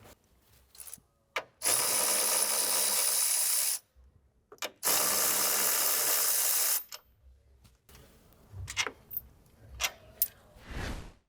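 Ratchet breaking free and spinning out 16mm bolts on the strut brace of a 2014-2018 BMW F82 M4, two long buzzing runs of rapid clicks with short taps and clunks of the socket between them, close and loud, no talking.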